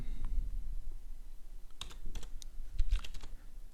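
A computer keyboard is typed in a few quick clustered keystrokes over a low background rumble, close and moderately quiet, with no voices.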